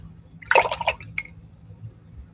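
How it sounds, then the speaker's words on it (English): An acrylic paintbrush swished and tapped in a water cup gives a short burst of wet splashing and dripping, then a brief clink, close and fairly quiet. "wash my brush"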